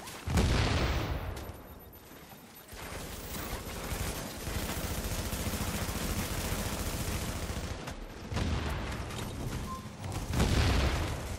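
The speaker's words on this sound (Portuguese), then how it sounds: "Ó, tô levando tiro pela parede," Rapid bursts of gunfire crackle and boom almost continuously, with a few louder volleys standing out, from combat in the video game The Division.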